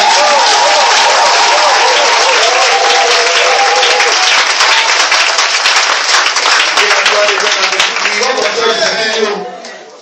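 A church congregation bursts into loud, sustained applause and clapping with cheering voices, filling the room for about nine seconds before fading out at the end.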